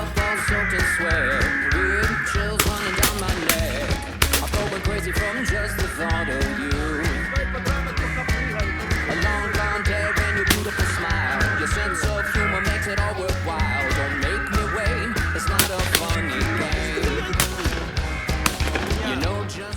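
A large flock of hooded crows caws loudly and continuously, close and far calls overlapping, during a crow hunt with an owl decoy, with sharp cracks or bangs cutting through now and then.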